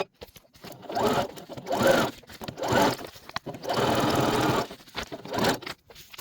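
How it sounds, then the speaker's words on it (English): A sewing machine runs a temporary basting stitch through pleats in fabric, whirring in several short bursts with pauses between them, close and fairly quiet. "I'm going to sew just like a basting stitch, just a temporary stitch, just to hold the pleats"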